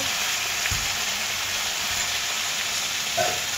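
Fried tilapia sizzles in a pan of mustard gravy with dried chillies and turmeric, a loud continuous close frying hiss with a couple of faint stirring knocks.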